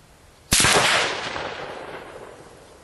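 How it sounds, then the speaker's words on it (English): A single rifle shot fired at a target during a barrel tuner demonstration cracks sharply and loud, then trails off in a long echoing decay outdoors. "I'm going to shoot top left, top right, bottom left,"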